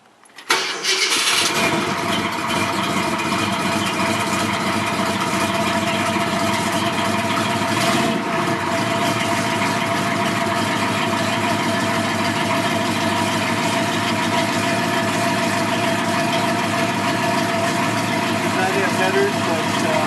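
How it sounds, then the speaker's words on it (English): A 1969 Mustang Mach 1 428 Cobra Jet V8 with an aftermarket exhaust cranks and fires up, then settles into a loud, steady idle with a throaty exhaust rumble that carries on unbroken. "does have an aftermarket exhaust system, so it's a little bit louder, but it's got a nice rumble to it"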